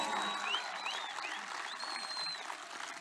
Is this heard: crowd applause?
yes